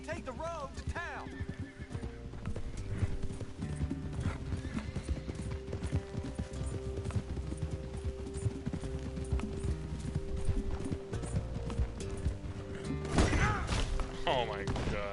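A horse in Red Dead Redemption 2 gallops with rapid clip-clop hoofbeats and lets out loud whinnies near the start and end, over game music and thuds, with someone talking over it.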